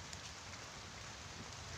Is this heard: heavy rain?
yes